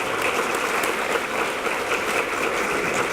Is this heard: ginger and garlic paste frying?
no